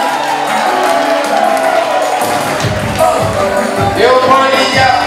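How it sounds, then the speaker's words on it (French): An audience applauds and cheers for dancers at a 50th birthday celebration, with crowd noise and whoops mixed over ongoing music, steady and fairly loud across the whole stretch. "On peut les applaudir, mesdames et messieurs."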